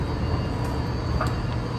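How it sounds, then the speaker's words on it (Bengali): A metro train at a rail station gives a steady low rumble and hum, with a faint high electrical whine above it, continuous and moderately loud over the short stretch. "এই যে মেট্রো"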